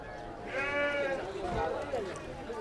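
At a livestock market in Atpadi, a goat gives a short wavering bleat at moderate distance, heard amid background market chatter and crowd noise.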